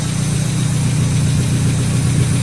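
A car engine idles steadily with a deep, rumbling exhaust drone, loud and close, no voices.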